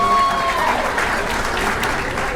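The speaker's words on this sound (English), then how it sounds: "I think his cheer just took the lead" A crowd at a university ring ceremony cheers and applauds steadily and loudly for a graduate's name, a dense wash of clapping with scattered whoops.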